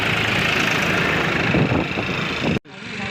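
A motorbike engine runs at a steady, close, loud drone, then cuts out abruptly near the end before a quieter rumble resumes.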